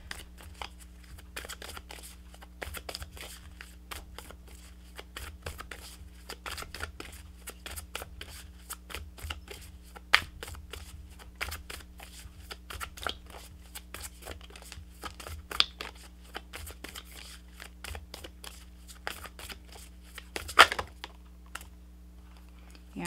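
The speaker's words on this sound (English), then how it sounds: "let's pull you some additional guidance cards, Scorpio" Tarot guidance cards being shuffled, a long run of soft rapid card riffles and flicks with sharper snaps now and then, steady and close, over a low constant hum.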